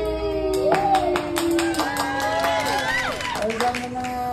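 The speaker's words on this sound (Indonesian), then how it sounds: "Tepuk tangan." A few people clap in short bursts at a small child's birthday celebration at home, mixed with cheerful voices and sing-song chatter close by.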